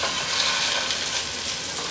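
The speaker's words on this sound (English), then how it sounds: "we put another tablespoon of oil in. I used olive oil personally. Now we're gonna just let these cook." Patties fry in olive oil in a pan over medium-high heat, giving a close, steady, loud crackling sizzle with no voices.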